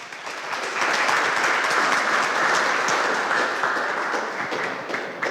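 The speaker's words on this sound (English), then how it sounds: "Everybody, big round of applause." An audience at an evening art prize opening and presentation ceremony gives the guest of honor a full, steady round of applause that swells after a moment and holds loud throughout, with no voices over it.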